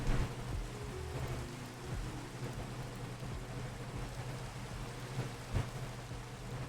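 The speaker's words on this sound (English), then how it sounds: "let's get rid of this rain" Steady rain hissing over a low rumble, with occasional thudding bursts like distant thunder; no voices, a constant wash of noise.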